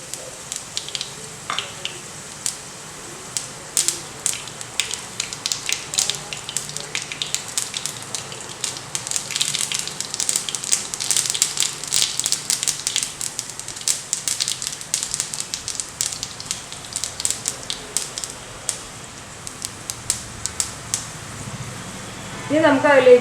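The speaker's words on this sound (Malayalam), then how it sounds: "ഇനി അതിലേക്ക് നമുക്ക് കുറച്ച് ഒരു ടീസ്പൂൺ കടുക് ഇട്ട് കൊടുക്കാം" Mustard seeds splutter in hot oil in a pan, a scattered run of sharp crackles and pops that thickens in the middle and thins toward the end.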